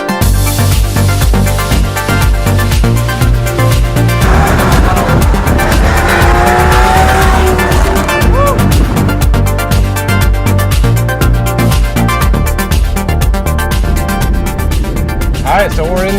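Porsche Cayman GT4 driving on the road, a dense, loud engine roar heard from inside the cabin with shifting pitch as it accelerates, plus steady road noise throughout.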